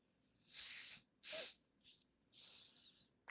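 Several close, breathy puffs of air pushed out through the nose, separated by short pauses, ending with a couple of faint clicks.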